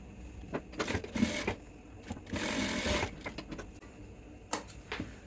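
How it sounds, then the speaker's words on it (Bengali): A sewing machine stitches the cross pocket of a pair of full-length pants, running in several short, rapid bursts with brief pauses and handling noises between them. "আমি আগে নিচে সেলাই করব"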